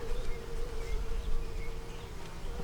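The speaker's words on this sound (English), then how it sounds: "Over here we have bees fighting" Honey bees buzz steadily around a nuc hive started from queen cells, a continuous close droning hum with no pauses.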